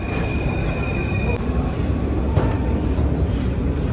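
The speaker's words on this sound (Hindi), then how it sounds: "छोड़ा मैंने मेट्रो 5 को" A Paris Metro line 5 train heard from onboard, a loud, constant rumble of wheels and motors with brief metallic squeals and clicks cutting through, and a voice speaking faintly underneath.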